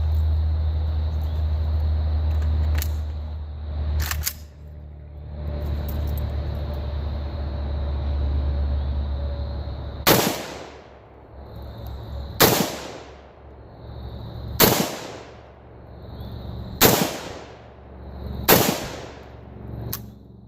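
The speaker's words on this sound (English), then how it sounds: "we're taking some slower aimed shots with this BD3 brake so you can see the difference in recoil and muzzle rise." Rifle fitted with a BD3-AKD muzzle brake fires slow aimed shots: a pair of sharp cracks, then five loud, evenly spaced blasts about two seconds apart, each with a brief echoing tail, no talking.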